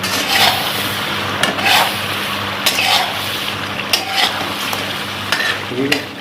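Chicken karahi being stirred in a pan with a spoon, steady frying sizzle under repeated scraping strokes, about five distinct sweeps close by with no talking.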